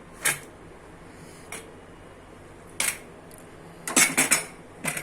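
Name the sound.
opening pressure cooker of boiled rice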